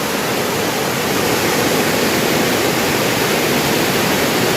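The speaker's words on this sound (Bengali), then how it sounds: "ঝর্ণা ঝর্ণার স্রোত দেখুন বন্ধুরা" Water pours over the waterfall at Murguma dam in a loud, steady, unbroken roar of rushing water, with no voices.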